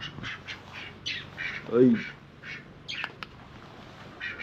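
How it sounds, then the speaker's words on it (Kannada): At an ashram's small animal enclosure, one of two ducks lets out a single short, loud squawk near the middle, while people talk throughout. "ಇಲ್ಲೊಂದು 2 ಬಾತುಕೋಳಿ ಇದೆ."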